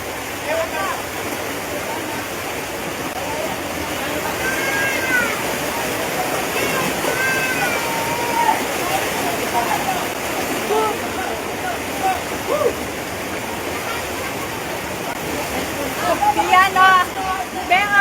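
Heavy floodwater rushes in a continuous loud roar for the whole stretch, with people shouting and talking faintly over it.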